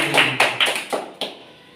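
Children clapping hands together at a Sunday school gathering, a few loose, uneven claps that trail off quickly, moderately close, with no talking.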